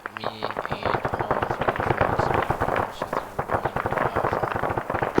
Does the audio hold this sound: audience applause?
no